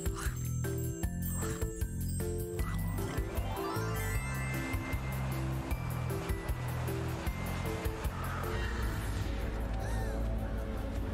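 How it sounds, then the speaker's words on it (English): Crows caw in the video game Little Misfortune amid a busy game soundtrack with tinkling music, steady wave-like surf and layered tones, the calls mixed into the dense score rather than standing alone. "So it's crows."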